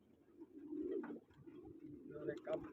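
Pigeons coo softly in low, rolling phrases at a pigeon-flying gathering, fairly faint, with voices murmuring in the background.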